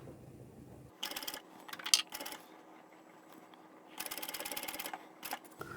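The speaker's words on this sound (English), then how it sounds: "I'm going to stop sewing right where this seam is." A sewing machine stitches a tote bag seam in several short bursts of rapid mechanical clatter, with quiet pauses between runs, close up and without talk.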